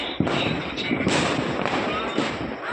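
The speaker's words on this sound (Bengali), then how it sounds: "চারপাশে দেখো বোম ফাটছে" Firecrackers and fireworks burst continuously all around during New Year celebrations, a dense crackling barrage with sharp pops and thumps, loud and close, with a voice faintly underneath.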